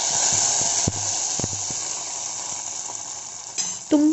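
A hot tempering of spices in oil is stirred into milk saaru, giving a steady, close sizzle and hiss with a few soft clicks of a spoon and a brief clatter at the end, with no talking.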